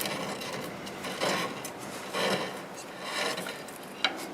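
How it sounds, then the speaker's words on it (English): An English walnut root ball being hollowed on a wood lathe gives a steady, close scraping and rubbing of the tool against the spinning wood, swelling with each cut and ending in a short sharp knock. "just for a couple cuts, I want to start hollowing it a little bit"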